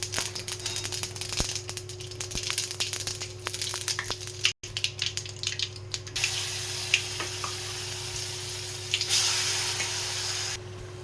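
Mustard seeds and asafoetida hit hot oil with a crackling sizzle that jumps into a brighter, louder hiss partway through, alongside a steady background hum.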